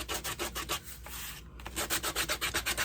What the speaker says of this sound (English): I'm just distressing every piece that I've painted black.